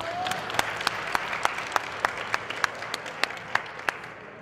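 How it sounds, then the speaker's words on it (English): A crowd at a political rally applauds steadily, with a dense bed of clapping marked by loud, regular hand claps near the microphone that keep an even beat. "Give him another round of applause."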